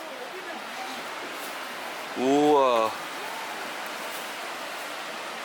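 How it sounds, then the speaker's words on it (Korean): A mountain stream's rushing water flows softly throughout, a constant broad hiss; a person exclaims briefly in the middle. "물소리가 아주"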